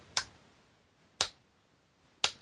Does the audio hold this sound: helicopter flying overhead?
no